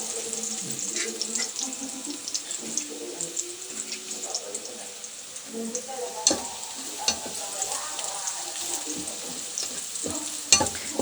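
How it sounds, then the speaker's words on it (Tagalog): Garlic, onion and ginger sauté in a pan with a steady bright sizzle, broken by scraping stirs and light clinks of a utensil throughout. "naggisa siya ng bawang, sibuyas at luya"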